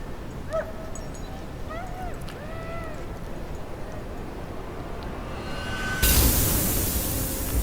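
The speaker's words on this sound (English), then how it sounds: "Why does the dog sound like it's suffocating?" A dog whimpers in short strained yelps that sound like it is suffocating, in a tense Alien sci-fi short film scene, followed by a rising hiss of static-like noise.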